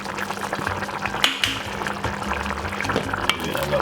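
Ketchup goes into a pan of gravy for baked chicken with steady liquid bubbling and wet stirring sounds, a continuous close sizzle and slosh with a few sharper clinks of a spoon against the pan, no talking.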